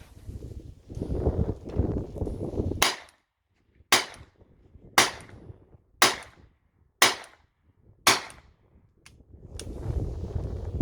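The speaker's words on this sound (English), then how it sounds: "This is a double action, so I could just squeeze the trigger, but if I want to make it easier, I cock it first." A Swedish M1887 double-action revolver is cocked and dry-fired six times in an even rhythm, each sharp metallic snap ringing out close and clear. Quieter handling rustle comes before and after.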